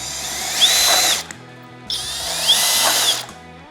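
Cordless power drill fitted with a nutsetter bit driving screws, two loud whirring bursts of about a second and a half each, rising in pitch as they spin, separated by a short pause, close by with no talk.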